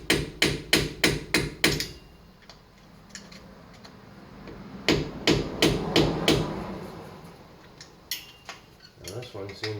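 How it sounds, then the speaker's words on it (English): A small hammer strikes a screwdriver to pry the front hub dust cap off a Ford F150, a series of sharp metallic taps close by in quick bursts, with pauses between groups. "Just going to take a screwdriver and a little hammer. A few taps."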